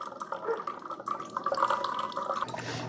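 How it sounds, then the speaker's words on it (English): Hot water drips and trickles from a Mr. Coffee Frappe single-serve iced and hot coffee maker during brewing, a close, irregular patter of drops and splashes with low machine hum. "here we've got the water coming out, the hot water"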